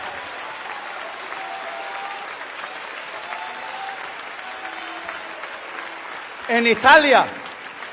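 A church congregation breaks into a short burst of loud applause lasting about a second after a preacher's speech, which is heard faintly before and continues over the clapping.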